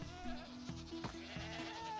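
A goat in Minecraft bleats with repeated wavering, nasal calls that carry on alone across the full two seconds, close and steady.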